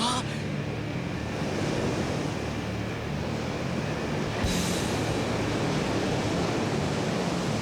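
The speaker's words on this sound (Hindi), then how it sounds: "लहरें काफी तेज हैं।" Strong, surging sea waves in an animated cartoon roll as a dense, continuous roar throughout, with a brief splash-like burst partway through and no talk.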